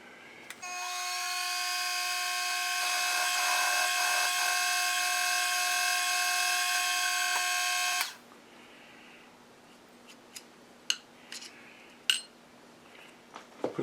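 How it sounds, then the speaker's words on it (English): A tapping drill spins up and bores a hole in a metal annular cutter holder, a steady high whine lasting several seconds before stopping, followed by faint clicks and metallic taps. "tapping drill."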